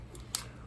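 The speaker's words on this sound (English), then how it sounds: "Here's the scissors." Scissors on a Leatherman Arc multitool being handled, giving one brief faint metallic snip or click alone in a quiet room.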